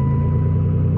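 A car engine idling right after a spark plug replacement, a loud, steady low rumble with an even, close-up drone and no talking.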